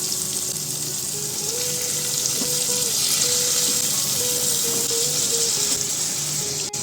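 Lote fish pieces frying in a cooked spice masala, giving a steady, fairly loud sizzle and bubbling close by throughout, with a faint tonal hum underneath and no talking.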